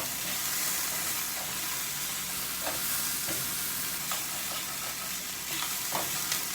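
Potatoes frying in a pan, meant to get a little burnt, give a steady loud sizzle with scattered pops and the occasional scrape of stirring, continuous throughout with no talking.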